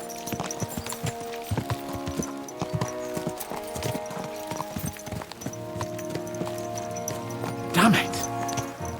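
Horse hooves clip-clop in a quick rhythm across ground in Kingdom Come Deliverance 2, several horses ridden together at pace, with a brief whinny-like call near the end over background game ambience.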